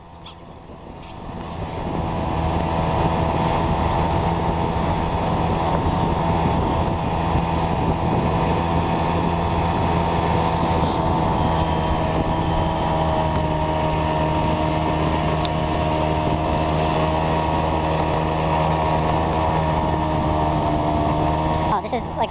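A moped engine hums steadily and loudly on a mountain road at Yang Ming Mountain in fog and rain. The tone is sustained and drawn out, after a quieter start that fades in over the first couple of seconds.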